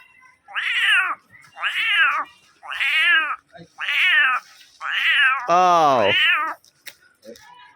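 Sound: man imitating a cat's meow

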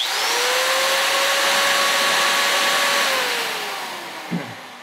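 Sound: hammer drill running

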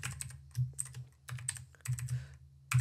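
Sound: typing on a computer keyboard in MATLAB

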